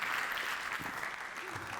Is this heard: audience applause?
yes